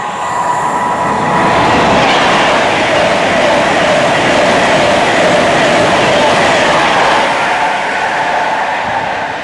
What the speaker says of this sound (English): I'm also going to catch this Pendolino